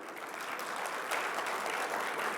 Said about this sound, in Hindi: ताली बजाइए जोर से, अच्छा लगा तो